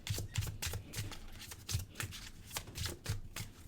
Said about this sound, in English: I will be pulling cards from this love deck here.